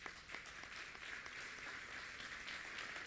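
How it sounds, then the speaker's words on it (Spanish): Faint, distant applause from a conference audience, an even patter of clapping continuing throughout with no speech. "Fuerte el aplauso para él."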